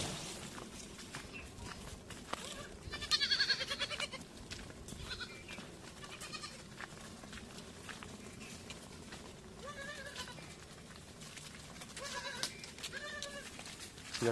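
Goats on a farm bleating several times, close and fairly faint, over soft shuffling steps and quiet background noise.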